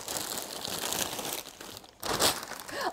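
Paper packaging crinkles and crunches while an art-print haul is unpacked, with a steady close rustle, a short pause, then a louder burst of crumpling.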